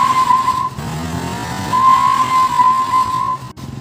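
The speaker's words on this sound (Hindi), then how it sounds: "अभी दीदी का गाड़ी स्टार्ट हो चुका है" A car being driven across an empty open ground used for cricket and football, its engine running loud and close with a high tire-like whine that rises and falls, no speech.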